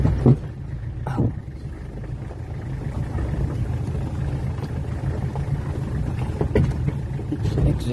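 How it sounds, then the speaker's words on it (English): A Peugeot 504 seven-seater station wagon creeping downhill on a badly rutted, stony road near the Gamka river, its exhaust scraping and knocking on stones in a few sharp hits over a continuous low engine and road rumble. "It's exhaust hooking."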